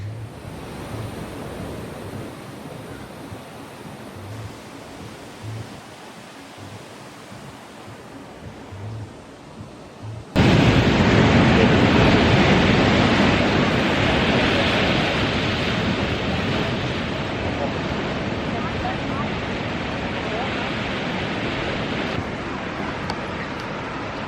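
Ocean waves crash on a beach in Bali, first as a quieter distant wash with soft thumps, then a sudden loud, close, steady roar of surf that continues to the end.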